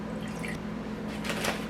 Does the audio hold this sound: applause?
no